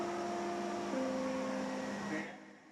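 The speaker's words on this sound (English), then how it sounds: "or this train sound," Short train sample layered into a sampled beat: sustained whistle-like tones shifting pitch partway, fading out near the end, fairly loud and alone.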